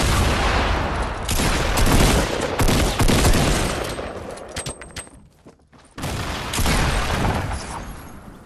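Grenade blasts and rapid gunfire from a Fortnite Battle Royale match, dense bursts of shots and booms filling most of the stretch with a brief lull before the barrage resumes loudly.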